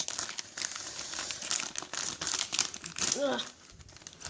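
A crinkly package being opened, with bursts of plastic crumpling and rustling, loud and close, and a short vocal exclamation near the end.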